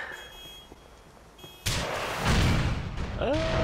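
An explosion in the video game Grand Theft Auto IV hits suddenly with a loud boom and sustained rumble, following quieter game ambience, and a short electronic beep sounds near the end.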